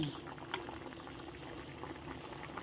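A pot of coconut milk curry with pumpkin, pork and pork belly boils steadily, a dense continuous bubbling and popping at moderate level, with faint talk underneath.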